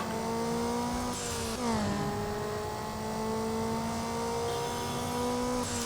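A race car in Need for Speed Underground launches off the start line, its engine revving hard and climbing through gear shifts, loud, close and steady with no voices.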